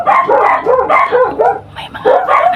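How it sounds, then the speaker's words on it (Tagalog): Dogs barking at night, a run of loud close barks and yips in quick irregular bursts with brief gaps, no voices in between. "Tumatahol lang yung aso."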